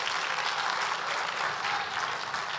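Steady, dense applause from a church congregation during a sermon on the resurrection, loud and continuous throughout with no pauses.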